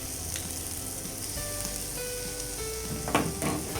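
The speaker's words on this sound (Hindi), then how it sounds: "we shall just stir fry this and make sure it's done to the bite." Mixed vegetables stir-fry in a hot pan with coriander pesto, giving a steady, close sizzle and crackle with a few brief clinks and a louder spatter near the end.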